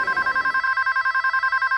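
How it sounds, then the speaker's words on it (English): A telephone bell rings in a rapid, continuous electronic trill, loud and close, filling the short moment alone without any voices. "Phone rang, I picked it up, and Judy says"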